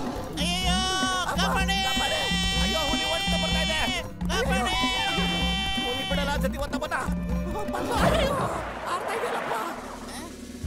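In a Motu Patlu cartoon, a voice imitates a sheep with a series of wavering, nasal bleats, several in a row, backed by cartoon music and followed by busy chatter near the end.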